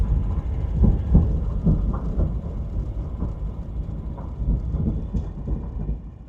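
A train rumbling along a railroad track through a valley, a loud, steady low roar with repeated clanking thumps from the wheels, continuous and close throughout.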